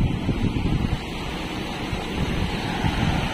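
Strong wind buffets the microphone in a steady, roaring rush, with low rumbling gusts throughout and no voices.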